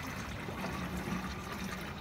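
Four litres of water mixed with vinegar and black soap poured into a watering can, a steady soft gurgling stream of liquid filling the container, close and unbroken throughout with no voices.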